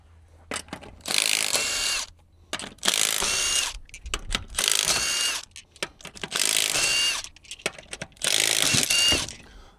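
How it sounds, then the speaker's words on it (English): Wheel lug nuts being loosened and removed with a ratchet: five close, loud bursts of rapid clicking, each about a second and a half long, separated by short pauses, with no talking. "Okay, we'll pull off the lugs."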